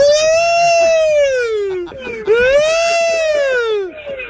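A voice imitates a rising and falling siren wail, two long swoops with a brief break between them, loud and close.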